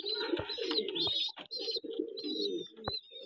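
Danish pigeons cooing close by in a loft, repeated soft throaty coos in overlapping bursts with brief pauses between them.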